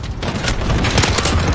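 Gunfire in Call of Duty: Modern Warfare multiplayer, a rapid burst of loud, close shots with sharp cracks over a low rumbling battle bed, heard without speech.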